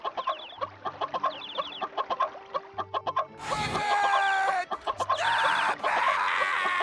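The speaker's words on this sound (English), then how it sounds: "get ready to go insane hearing the same 1-second chicken sound repeat for all eternity" A one-second chicken clucking sound effect from the video game Funny Pizza Land loops over and over in quick rhythmic bursts, broken midway by a louder squawking crow-like burst before the clucking resumes.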